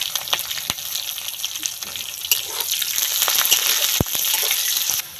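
Chopped garlic and green chillies hit hot oil with onions already fried brown, setting off a loud, steady close-up sizzle with a few sharp clicks of a stirring utensil.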